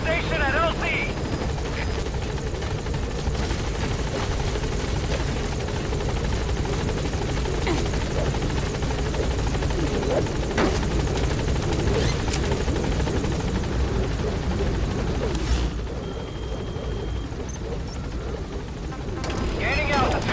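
Support helicopter in the Metal Gear Solid V video game arriving at a landing zone, its steady rotor roar and engine whine filling the whole span loudly, with radio voices talking over it.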